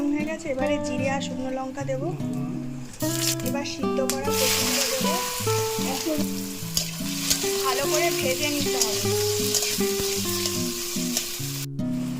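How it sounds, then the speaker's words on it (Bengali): Masala for taro curry frying in a pan, a loud continuous sizzle with stirring, close, heard under someone talking and background music. "মশলাটা দিয়ে দেবো যাতে ভালো করে কষাতে হবে"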